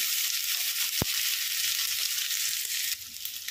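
Ginger and salt frying in hot oil, a steady loud sizzle throughout with a single sharp tap near the start and a slight rise in hiss toward the end.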